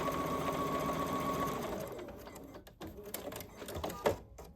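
A sewing machine stitches a quilt block with a fast steady whirring run that slows and stops, followed by a few faint clicks and fabric handling sounds.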